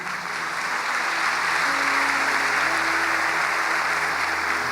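A church congregation breaks into sustained applause, dense steady clapping that swells slightly after the first second and holds loud and even throughout, with no voices standing out.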